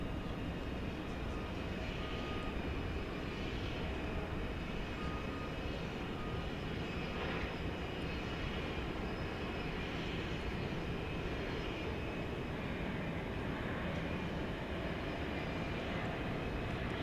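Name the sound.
UPS MD-11 jet airplane taking off at DFW Airport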